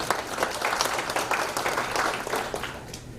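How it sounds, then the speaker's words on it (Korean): Brief round of audience clapping at a lecture hall event, a crowd applauding fairly loud and close, with dense irregular claps tapering slightly toward the end. "우리 아내 고한석 교수 박수 한번 쳐주시죠"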